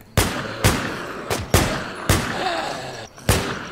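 Gunfire rings out in The War Z survival game, with six sharp, loud shots spaced about half a second apart, each decaying quickly, over a faint background.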